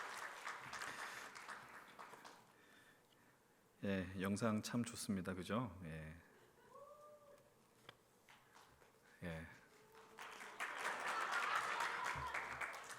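A church youth-service congregation applauds: bursts of clapping at the start and a broad wash swelling near the end, with someone speaking Korean in between.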